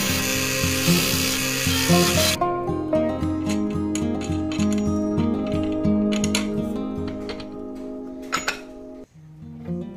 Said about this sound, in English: 10 inches is actually the biggest I could make while still using this drill press.